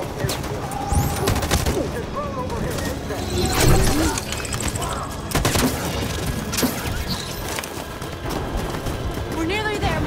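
Bursts of gunfire ring out in a tense rebel assault in the game Detroit: Become Human, sharp cracks and rapid volleys scattered among shouting voices and clattering action.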